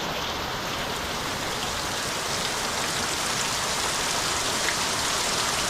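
Steady, heavy rain pours down without a break over a village courtyard that is filling with water, a dense, close wash of sound with no voices.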